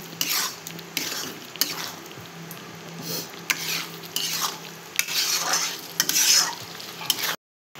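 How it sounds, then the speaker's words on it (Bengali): Potatoes are stirred and browned in spice masala in a pan for egg biryani, making a loud, close rhythm of spoon scrapes and clatters over a steady sizzle before an abrupt silence at the end. "এখন আমি আলুগুলো মশলার মধ্যে দিয়ে ভালো করে কষিয়ে নেব"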